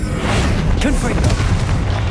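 Confringo fire-blast spell exploding in Hogwarts Legacy combat: a steady, loud booming rumble with bursts and crackle, held for about two seconds under faint voice.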